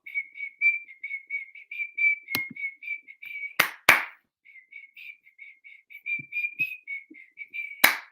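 A steady, high-pitched whistle repeats in short rapid pulses, pausing and resuming, broken twice by sharp loud slaps or clicks.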